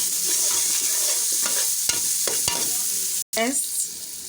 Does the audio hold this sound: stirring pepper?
yes